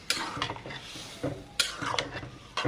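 A spoon stirs banana flower and prawn curry in a pan, giving a run of soft, close scrapes and clinks at an uneven rhythm over a faint sizzle.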